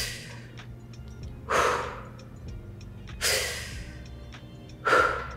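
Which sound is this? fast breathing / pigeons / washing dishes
fast breathing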